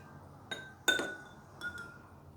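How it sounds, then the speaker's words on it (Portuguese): An ice cube drops into a glass of water, making a few bright, close clinks against the glass, one sharper tap in the middle and two lighter ticks after, over quiet room noise. "eu vou colocar uma pedra de gelo nessa água"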